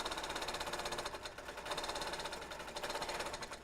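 A sewing machine runs steadily at close range while piecing a quilt, its rapid, even stitching rhythm continuous with a brief slight dip in pace partway through.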